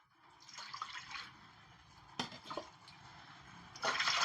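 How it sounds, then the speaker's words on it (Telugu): Water is poured from a small pot into the base of an idli steamer in a few separate splashing bursts, close by and fairly quiet, with no talking. "ఇప్పుడు అడుక్కు చెంబుతో నీళ్ళు పోతాము."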